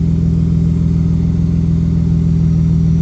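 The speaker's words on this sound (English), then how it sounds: "BMW rumble." A BMW M3 with a full 3-inch exhaust gives off a loud, steady low engine rumble. It holds an even, throbbing idle up close, with no voices over it.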